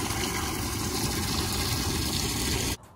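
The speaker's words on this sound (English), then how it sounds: "Second, I'll fill it up with water to clean the vegetables." Water gushes steadily into a container being filled for washing vegetables on a farm, a constant loud rushing that cuts off abruptly near the end.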